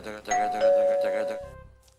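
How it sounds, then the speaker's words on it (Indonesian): A doorbell rings with a two-tone ding-dong chime, clear and close, its second tone ringing out and fading over about a second. "bel bunyi, bukain pintu."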